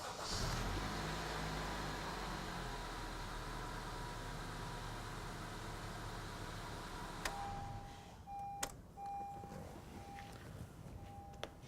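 A Acura Honda car engine runs at a steady idle, a constant low rumble filling the clip, with a few faint electronic beeps near the end.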